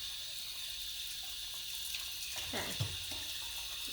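Warm water runs into a plastic dye bottle, a steady close pour with a brief splashy change partway through, under a quiet spoken word.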